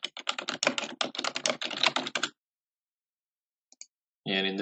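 A report name being typed on a computer keyboard: a quick run of close, crisp keystrokes for about two seconds, then a silent pause and a brief final burst of clicks.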